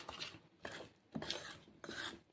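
Health mix (sathumavu) cake batter being stirred close up in a bowl: four rhythmic, scraping strokes about half a second apart, soft and quiet, with no voices.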